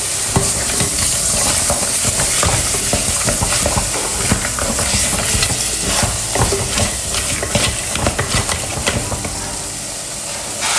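Bones and cooked beans being stirred in a sizzling curry pan, with a steady loud frying hiss and scraping, clattering stirs running throughout, no voices.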